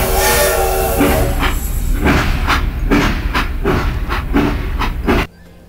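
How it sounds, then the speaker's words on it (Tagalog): A train rumbles past with rhythmic clacking of wheels over rail joints, loud and close, then cuts off abruptly near the end. "pakinggan natin ang pagdaan ng tren."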